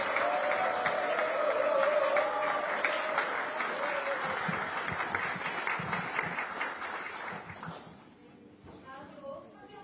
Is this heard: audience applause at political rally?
yes